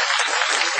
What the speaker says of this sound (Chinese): 来点掌声